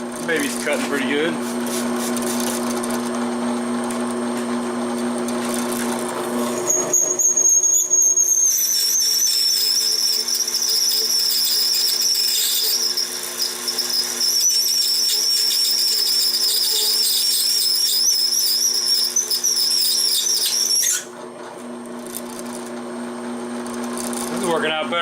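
An M35 cobalt drill bit biting into a steel mower blade: a steady motor hum first, then a piercing, wavering high squeal as the bit cuts for over ten seconds before dropping back to the hum; someone talks at times.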